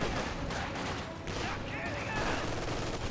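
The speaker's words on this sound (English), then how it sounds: "Grenadiers taking some more fire there." Dense, rolling small-arms fire pours onto grenadiers in the Company of Heroes 2 strategy game, a continuous loud barrage with overlapping gunshots and no clear pauses.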